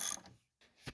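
A ratchet wrench works on the top strut nuts of a 2010-2014 Subaru Outback, with a quick run of clicking pawl sounds, a short pause, then another burst within one second.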